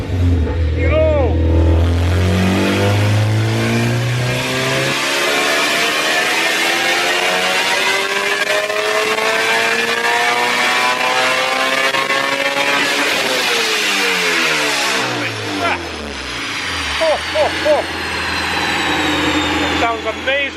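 An 8th-gen Honda Civic Si with a Mugen exhaust revs hard and loud up close, the engine climbing and holding high rpm before dropping back and rising again, with people talking over it.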